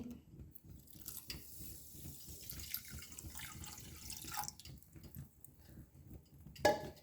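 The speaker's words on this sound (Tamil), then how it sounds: "தண்ணி" Water runs and splashes into a pan for sugar syrup in a home kitchen, a steady close trickle with small clinks of the pan and a brief louder splash near the end.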